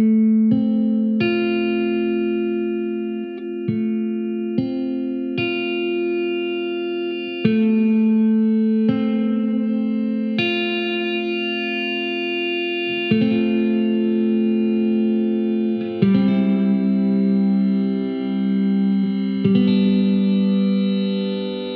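Guitar notes held and frozen by an EHX Superego+ effects pedal: a series of plucked notes with sustained, layered tones that hang and stack between attacks, ringing steadily with no talking.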